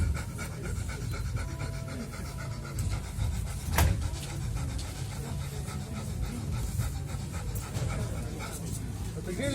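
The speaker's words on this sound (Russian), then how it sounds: "Четвертое дыхание огня." Someone does a rapid breath-of-fire breathing exercise: fast, steady, rhythmic huffing breaths that sound like panting and continue throughout at close range.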